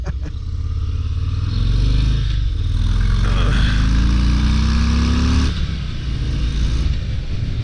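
A stock 2023 Harley-Davidson Breakout 117 rumbles loudly while riding, its deep V-twin exhaust rising and falling through gear changes with steady wind noise, heard close up and alone.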